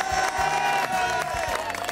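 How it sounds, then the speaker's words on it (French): A group applauding and cheering at a home renovation reveal, dense continuous clapping with sharp individual claps standing out, close and fairly loud throughout. "Vous pouvez vous applaudir en fait"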